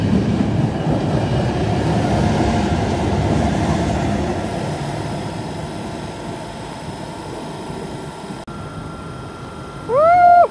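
Train braking into Den Haag Centraal station, a steady loud rumble of rolling wheels that slowly fades, followed near the end by a short, sharp high-pitched brake squeal.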